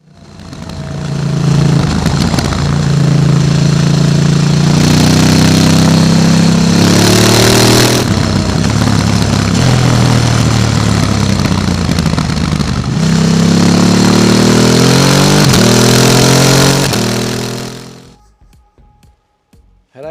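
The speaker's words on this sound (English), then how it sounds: "sound here comes out of the unit garage exhaust system, full flow-through system with the Ducati" A Ducati Desert X motorcycle with a full flow-through exhaust system revs loudly and close, with repeated throttle blips and rising engine notes for about eighteen seconds before cutting to near silence.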